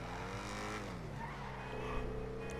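Engine of an Ocelot XA-21 sports car in GTA 5, a smooth, steady sustained tone with audible harmonics held for a couple of seconds, fairly quiet and alone.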